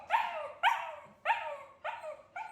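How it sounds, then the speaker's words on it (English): A small dog barks five times in a regular rhythm, each bark sharp and close, alone against a quiet indoor background. "Can you stop barking?"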